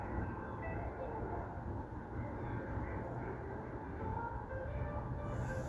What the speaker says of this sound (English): Train is very close to us.